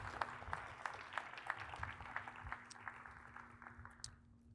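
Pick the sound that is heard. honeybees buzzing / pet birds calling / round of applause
round of applause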